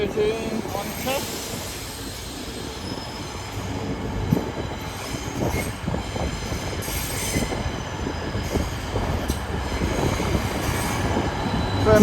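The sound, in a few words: class 810 train running through Newcastle station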